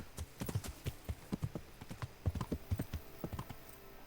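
A horse's hooves clop at a steady walking rhythm in the medieval game Kingdom Come Deliverance, each footfall distinct and fairly close, with no speech.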